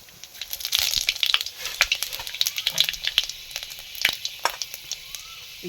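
Whole cumin, black cumin and panch phoron sizzling in hot oil, a lively crackle of small pops and spits close up, rising and falling without any talk.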